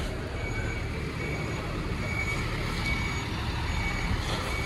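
A Rosalia Indah intercity bus reverses into a parking lot, its steady reversing beeper sounding repeatedly over loud engine rumble and roadway noise nearby.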